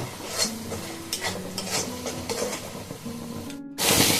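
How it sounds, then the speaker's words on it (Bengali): Turmeric stirred into a frying sesame mixture in a pan: steady sizzling with a spoon scraping in rhythmic strokes, close up, continuous throughout. "এখন এটাকে একটুখানি ভালো করে মিশিয়ে নেব।"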